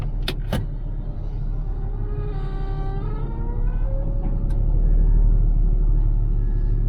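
A truck pulls away and drives off from a distribution centre. The engine rumbles close and steady, rising gears whine upward as it gains speed, and a couple of sharp clicks come early on.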